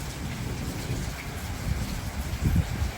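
Heavy downpour during a thunderstorm at a farm makes a dense, constant roar of rain with low rumbling swells, close and loud throughout.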